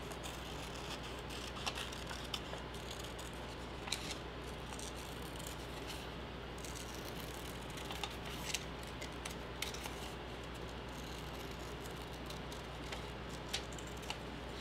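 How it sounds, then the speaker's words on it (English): Scissors snip through paper while cutting out a heart-shaped template for a handmade watercolor card, giving quiet, scattered clicks and crisp snips at irregular intervals over a soft, steady background hum. "I will do a little template and cut it out with my scissors."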